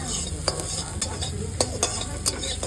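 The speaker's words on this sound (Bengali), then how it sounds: "এই যে গাজর, তো এটা জাস্ট হালকা করে ভাজবো না, জাস্ট দিয়ে একটু নাড়বো।" Carrots for soup stirred in a hot wok (kadai), a close sizzle running under repeated sharp scrapes and clinks of the spoon against the metal pan.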